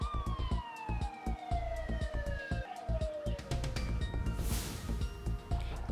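Police car, ambulance, command vehicle and fire truck sirens wail together as the emergency vehicles pull into a campus parking lot during a fire drill, with descending siren tones overlapping continuously and loud over engine rumble.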